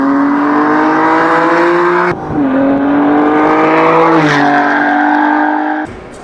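A Jannarelly Design-1 sports car engine revs loudly up close, its pitch climbing in repeated pulls with brief drops between, ending in a throttle lift.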